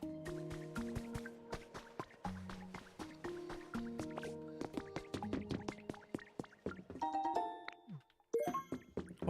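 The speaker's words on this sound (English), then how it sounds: "I hear water." Water drips again and again in a video game, the plinking drops falling close and clear at an uneven rhythm among soft resonant watery tones, growing denser and more bubbly toward the end.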